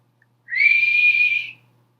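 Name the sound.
voice imitating a whistling teapot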